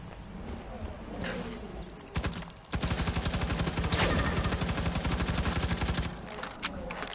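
Secondary weapon in the video game Firefall firing a rapid, steady stream of shots for several seconds, preceded by a few isolated shots and softer game ambience.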